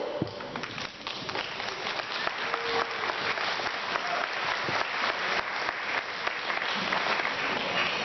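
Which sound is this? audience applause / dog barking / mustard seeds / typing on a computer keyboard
audience applause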